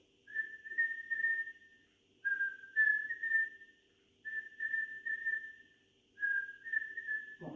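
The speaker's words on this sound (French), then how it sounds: "Et la troisième minute, on va, dans la mesure du possible, siffler." During a Subagh Kriya kundalini yoga exercise, a person whistles softly up close in four short phrases of wavering, sliding notes, separated by brief pauses and ending in a faint breathy sound.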